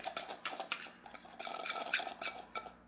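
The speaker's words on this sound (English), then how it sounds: "Stir everything all together." A utensil stirs ground spices and seasonings, including onion powder and white pepper, together in a bowl, giving quiet, rhythmic scraping and clinking strokes up close with no talking.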